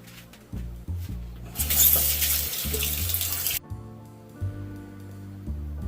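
Tap water runs as skincare product is rinsed off the face at a sink. A rush of splashing water lasts about two seconds in the middle, with low pulsing background tones before and after.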